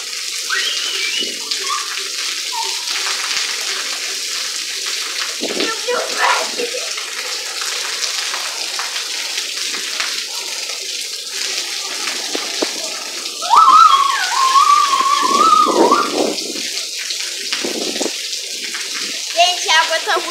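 Water runs steadily from a bath or shower tap, a continuous close hiss filling the whole stretch, with a brief louder burst of voice and splashing near the end; people speak over it.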